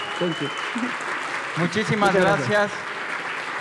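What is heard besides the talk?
applause for a speaker at a conference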